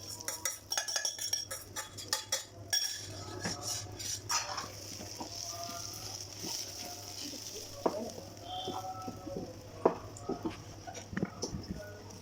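A spoon stirs rava kesari mixed with roasted cashews, almonds and pistachios in a pan, giving faint, intermittent scrapes and light clinks that come close by against a quiet background.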